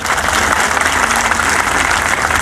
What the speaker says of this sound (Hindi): उनके लिए आप सभी लोग तालियां बजा दें,